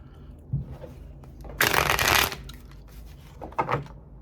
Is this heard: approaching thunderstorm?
no